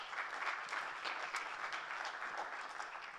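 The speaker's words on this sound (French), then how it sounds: "Et je vous demande de l'applaudir." Audience applauding a guest speaker, a government minister, at a plenary session of a conference dialogue on social entrepreneurship; steady, moderately distant clapping from a crowd that continues throughout without voices.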